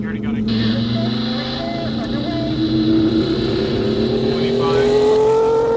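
Vehicle fitted with a 12-speed four-wheel-drive transaxle pulling away in first gear, an engine drone rising steadily in pitch as it accelerates, loud and close, with a voice talking over it.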